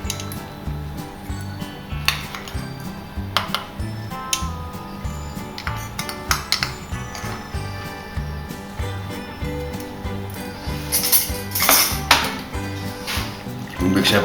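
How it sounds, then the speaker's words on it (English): Cocoa powder being stirred into a mixture in a pot for Maltese honey rings, with steady scraping and clinking of utensil against pot under ongoing background noise, louder toward the end. "We mix everything well together"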